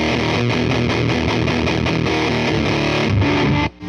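Guitar driven through an Interfax HP-1 Harmonic Percolator clone pedal, a dense, ripping distorted tone with fast strummed chords played continuously, loud and close, cutting off abruptly at the end.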